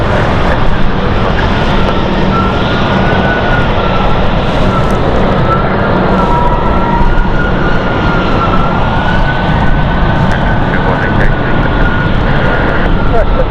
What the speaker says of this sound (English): Sounds like a Falcon. Might be a Falcon 7X.